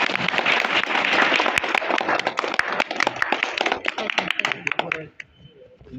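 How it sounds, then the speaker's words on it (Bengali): Audience applause at an inaugural ceremony at Sylhet PTI, a dense, sustained burst of clapping that fills most of the clip before cutting off abruptly near the end, leaving faint room noise. "আমরা সবাই করতালির মাধ্যমে আমরা অতিথিকে স্বাগত জানাই।"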